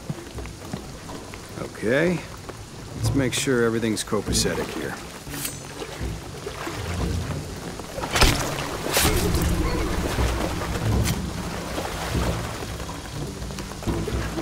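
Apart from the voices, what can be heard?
rain from video game Shadow of the Tomb Raider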